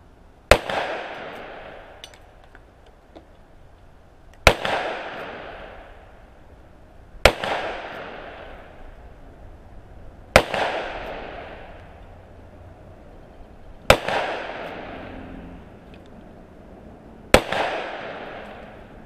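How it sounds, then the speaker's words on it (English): A Smith & Wesson 632 snub-nose revolver fires .327 Federal Magnum rounds outdoors: six sharp, loud shots spaced a few seconds apart, each with a sudden crack and a decaying rumble, with no talk. "These are extremely manageable loads to shoot. So let's put a few more through it. Okay, 6 more with the 632."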